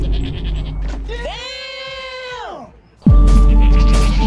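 Sheep in the game Minecraft Dawncraft bleat in one long, wavering cry close by, followed by a sudden loud burst of other game noise.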